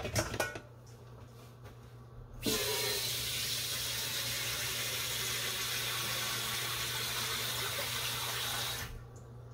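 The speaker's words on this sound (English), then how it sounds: "So now I'll be adding a little bit more water." Water pours steadily from a tap into a soup pot of Chinese yam, pumpkin and squash, a loud continuous splashing rush that starts abruptly and stops after several seconds.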